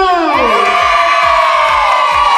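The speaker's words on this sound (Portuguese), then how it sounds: "Quem tá feliz dá um grito!" A loud crowd shouting and cheering together, a rising collective yell that holds steady, with many voices of children and adults blended.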